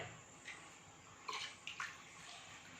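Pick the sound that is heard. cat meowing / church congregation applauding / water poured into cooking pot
water poured into cooking pot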